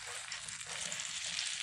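Eggplant omelette (tortang talong) frying in a pan gives off a steady, close, hissing sizzle with no voices.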